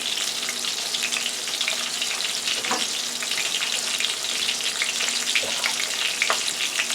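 Porgy fish seasoned with pepper, salt substitute and garlic fries in a pan, giving a steady, dense sizzle throughout with a few faint clicks and crackles, no voices.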